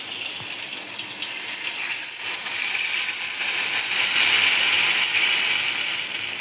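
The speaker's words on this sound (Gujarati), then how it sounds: "હવે આપણે નાખી દઈએ પાણી." Water is poured into a hot pan of oil and chillies for Maggi noodles, making a loud, close, continuous rushing splash and steamy hiss that swells and ebbs for several seconds.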